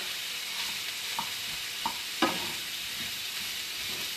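A spoon stirring food in a pan over steady high-pitched sizzling, with a few sharp scrapes and knocks standing out, no one talking.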